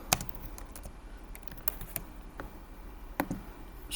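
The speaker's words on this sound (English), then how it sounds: "I'm just typing people that I know" Typing on a computer keyboard, a quick irregular patter of light key clicks with a few louder, sharper taps, close and quiet, with no voices over it.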